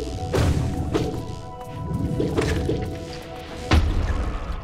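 A massive explosion in Hollow Knight, the 2D action video game, plays as a string of heavy thuds and crashing impacts that strike again and again at irregular intervals, loud and close, with a rumbling tail between hits.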